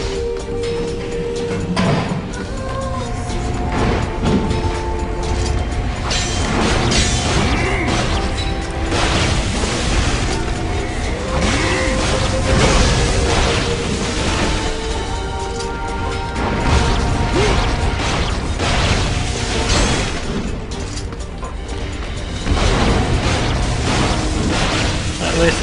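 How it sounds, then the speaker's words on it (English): Repeated booms, crashes and mechanical clanks from combat in the video game Nier fill the whole stretch, heavy and dense, with a voice talking over parts of it. "Explosions! I can't be having explosions."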